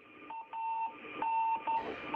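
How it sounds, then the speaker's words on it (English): A repeating electronic beeping tone from a radio beacon on the Soyuz MS-06 spacecraft during reentry and landing, steady and fairly loud, pulsing in short and longer bursts over a faint crackling radio hiss. "You're hearing that familiar beeping tone from a radio beacon on the Soyuz spacecraft"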